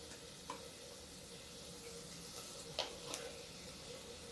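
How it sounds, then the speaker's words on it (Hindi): Asafoetida dropped into hot oil for a cauliflower curry sizzles softly and continuously, with a few faint clinks from the pan. "अब इसमें हम अभी डाल देते हैं थोड़ी सी हींग"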